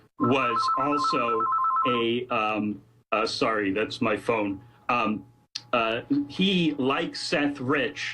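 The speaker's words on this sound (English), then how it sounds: "sorry, that's my phone" A phone rings with a steady electronic trill during the opening seconds, heard beneath a man's ongoing speech, which continues after the ringing stops.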